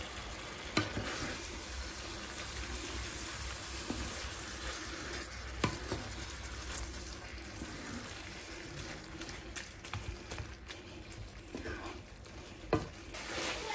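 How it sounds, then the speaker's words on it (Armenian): Meat fries in a pan with some liquid cooking off, a soft continuous sizzle broken by scattered spoon clicks and stirring scrapes, fairly quiet and close, with no talking. "Այստեղ արդեն տապակվել է, եփել է միսը"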